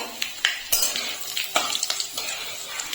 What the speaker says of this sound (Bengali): ফোড়নটা ভালো করে ফুটতে দেবো।